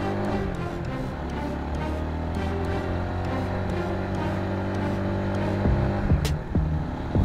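A car climbs a narrowing new mountain road at Gunung Lio, an alternative Brebes–Cilacap route with landslide damage, its engine droning steadily and close with low harmonic hum and road noise throughout, without talk.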